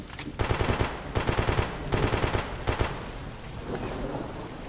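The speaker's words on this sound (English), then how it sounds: "He's scared, he's firing blind." Rapid bursts of automatic gunfire in the video game Escape From Pripyat come in several loud rattling volleys separated by short pauses, over a rumbling background.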